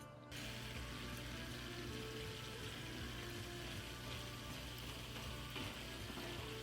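A new Fluval Aquaclear aquarium filter switches on and water begins pouring through it, a sudden steady hiss and splash over a low motor hum that runs on continuously.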